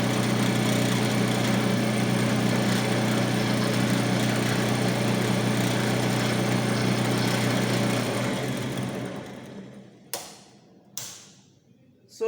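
A DC shunt motor runs at high speed with a steady, loud mechanical hum and whir, then winds down and cuts off near the end, followed by a couple of sharp clicks.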